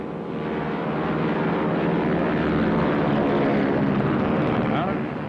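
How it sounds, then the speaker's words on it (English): Engine drone of a captured German Junkers Ju-88 bomber flying in a 1945 wartime documentary, a loud, steady, continuous roar with low rumble throughout, a narrator's voice partly over it. "such as this captured Ju-88"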